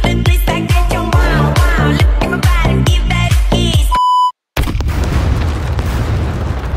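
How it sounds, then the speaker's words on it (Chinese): Loud booming blasts and bursts from the SCUM survival video game come in quick succession, followed by a short beep tone, a sudden gap and a rumbling, noisy aftermath. "还有人放炮"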